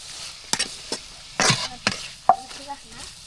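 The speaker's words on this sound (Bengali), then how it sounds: "এই যে একটু ভাজি মশলা দিয়ে নাড়াচাড়া করে নিতেছি।" A spatula scrapes and stirs potatoes with spices in a pan, giving a handful of distinct strokes spaced about a second apart over a faint background sizzle.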